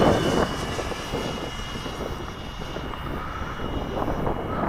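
Freewing F9 Panther RC jet flying in high winds, its ducted-fan whine steady and fairly distant, mixed with strong wind buffeting across the whole stretch.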